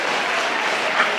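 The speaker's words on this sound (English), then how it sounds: "applause for Langley" Dense audience applause at a high school senior presentation, a steady wash of many hands clapping together for about a second with no break.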